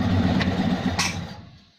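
An Invacar engine cranks on the ignition with the choke set to maximum, a short rough churning burst that fades out after under two seconds.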